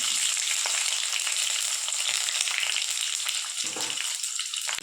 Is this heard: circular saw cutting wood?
no